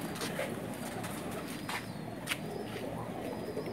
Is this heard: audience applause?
no